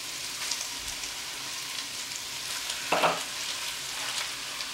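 Onions frying in a pot for cowboy stew, a steady close sizzle with a brief louder clatter of stirring near the middle and no talk.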